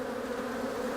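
Honeybees buzz steadily in a dense, close swarm while a hive box is opened for inspection, a continuous droning hum with no pauses and no voices.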